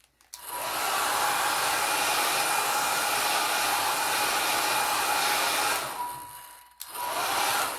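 Hair dryer blowing over alcohol ink artwork, a loud steady roar that starts abruptly, runs for several seconds, briefly cuts out, then switches back on.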